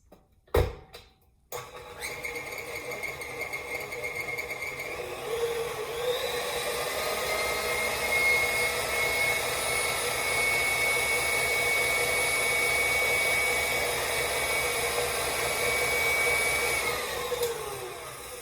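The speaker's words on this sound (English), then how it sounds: "I'm going to show you the actual whipping of the butter and how quick and easy it is." An electric mixer whips congealed brown butter with a steady whirring drone after a few short knocks at the start. The drone shifts pitch a little partway through and then cuts off at the end.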